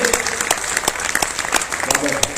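A crowd clapping with scattered, uneven claps, moderately loud, with a voice speaking over the applause at a Hindi comedy poetry gathering.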